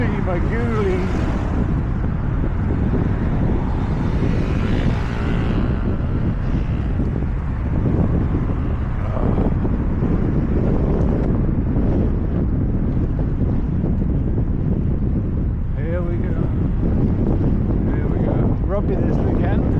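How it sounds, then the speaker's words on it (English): Strong headwind buffeting the microphone on a ride home, a loud, constant low roar of wind noise throughout, with someone talking intermittently over it. "Oh, the wind is right at us, blowing up hooly magooly."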